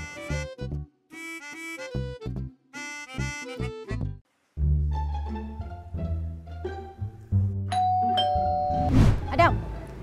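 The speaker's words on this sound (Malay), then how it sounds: "Tekan loceng ni je boleh buat order, bayar bil, call for service." A service call bell pressed at a table in a mamak restaurant, heard as a short series of bright, ringing chime tones amid music and restaurant noise. A voice speaks at times.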